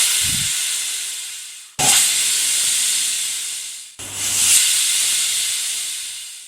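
A pressure cooker on a low-to-medium flame, cooking carrot for pulissery, lets out loud hissing bursts of steam: one long blast, then a second strong rush that gradually fades.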